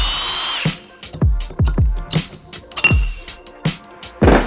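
A power tool driving bolts on the final drive gear of a Honda NSX differential, heard as a series of sharp, close bursts and clicks with short pauses between them, loud and with no talking.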